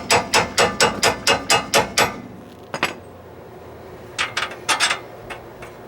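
Hammer tapping on the front suspension of a Lincoln Town Car while fitting Moog coil springs and new tires: a quick run of about eight sharp metallic strikes, a lone hit, then a short burst of four more, close and loud.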